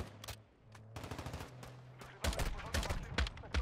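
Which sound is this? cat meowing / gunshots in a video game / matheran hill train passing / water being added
gunshots in a video game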